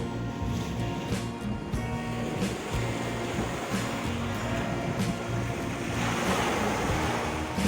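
Waves wash steadily into a small quiet bay on Fuerteventura, a continuous close roar of surf with wind noise buffeting the microphone and no voices.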